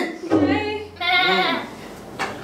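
A goat bleats close by, two or three wavering, nasal calls with short pauses between them, loud and clear.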